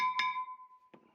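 Two sharp metallic clangs about a second apart from hammering a stuck brake rotor on a Ford F-250 Super Duty 4x4, the first ringing on with a lingering tone before the second strike.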